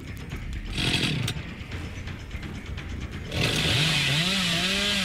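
A Dead by Daylight chainsaw starts after a stretch of noisy scuffling and clatter, then roars close and loud with a wobbling, rising and falling engine pitch until the end.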